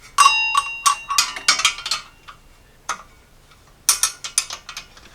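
A ratchet wrench tightens parts on a Jeep Cherokee XJ engine, making close, crisp clicking bursts in several quick runs separated by short pauses.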